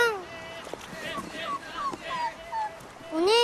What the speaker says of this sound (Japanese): お姉ちゃん、子犬だよ。